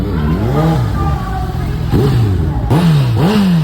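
Motor tricycle engine at a festival caravan revving hard with strong torque, loud and close, its pitch sweeping up and down in repeated surges, with background voices and crowd noise underneath.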